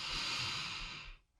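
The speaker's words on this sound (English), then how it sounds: "take a deep breath in and exhale through an open mouth" A single deep, breathy exhale through an open mouth, soft and close, fading out after about a second.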